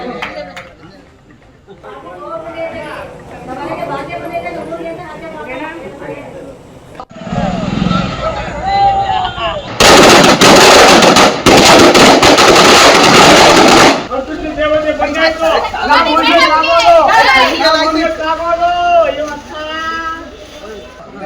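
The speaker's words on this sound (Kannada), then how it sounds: "ಪಟಾಕಿ ಸಿಡಿಸಿ ಸಂಭ್ರಮಿಸಿದ್ದಾರೆ ಕಾರ್ಯಕರ್ತರು" Crowd chatter and voices at a political welcome in Hassan give way to a few seconds of dense, crackling firecracker bursts, then the lively crowd noise resumes.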